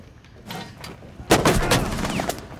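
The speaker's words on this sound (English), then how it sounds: "Did you just shoot me?" Gunfire in the tactical shooter Rainbow Six Siege during an Oregon team deathmatch round: a few scattered shots early, then a loud close burst of rapid fire with continuing shots and impacts.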